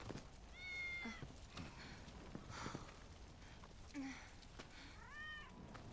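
Soft meows from a cat in the Final Fantasy VII Remake video game, three faint, short calls spread apart over low background game noise, with no talk over them.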